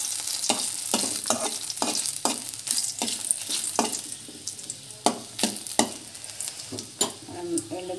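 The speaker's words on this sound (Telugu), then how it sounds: "ఇక్కడ పచ్చిపులుసుకి అయితే పోపు అయితే పెడుతున్నాను." Tempering for pachi pulusu fries in hot oil with dried red chillies: a steady sizzle comes with regular scraping stir strokes, and sharper crackles rise near the end.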